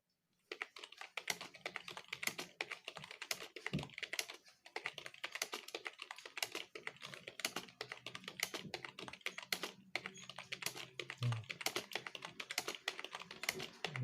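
Someone practises English typing on a computer keyboard, producing a steady stream of close, crisp key clicks with brief pauses between bursts. There is no talking.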